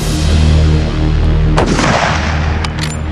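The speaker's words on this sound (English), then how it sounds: "When you're in a large shooting community and one of the 300 Winchester Magnums is fired, there's no questioning what just went off next to it." A .300 Winchester Magnum rifle fires one sharp, very loud report at close range, followed by a rolling echo that fades over the next second.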